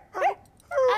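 People imitating dogs produce two short, yelping bark-like cries separated by a brief pause, close and fairly loud, with no ordinary speech between them.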